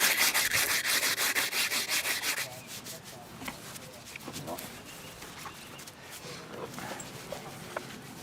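A brush scrubbing dust off a cow's hoof during hoof care, a quick run of rhythmic scratchy strokes up close, then slower, scattered rubs and soft knocks.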